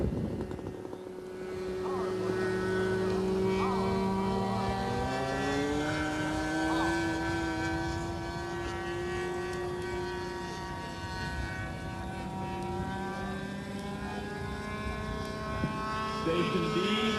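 A 1989 radio-controlled model airplane with a flat-bottom wing and floats flies overhead, its steady buzzing engine drone rising and shifting in pitch as it passes, continuous and fairly loud throughout.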